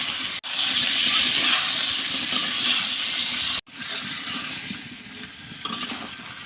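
Vegetables go into dried fish curry cooking over a clay stove, setting off a loud, steady sizzle with a burst of hiss, two sharp breaks and some stirring scrapes nearby.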